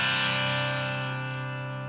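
Overdriven electric guitar through a PettyJohn Iron Overdrive pedal, one gritty sustained chord picked hard near the bridge and left to ring out and slowly decay, with no voice over it.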